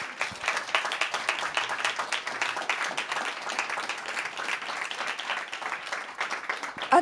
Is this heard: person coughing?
no